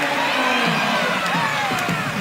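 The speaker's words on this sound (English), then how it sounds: "Crowd tells the story as Wong on the board" A crowd at a Hawaii Rainbow Warriors men's volleyball match against Emmanuel cheers loudly after a kill, a sustained roar of shouts and whoops close around, with a few sharp claps near the end.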